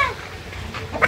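Sebright chickens cluck nearby, a couple of short sharp clucks standing out near the end over faint farmyard background.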